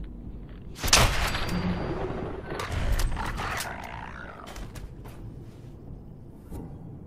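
Several pistol shots in Fallout 4 crack out sharply, the loudest near the start and more around the middle, each trailing into a rumbling tail over a busy game soundscape.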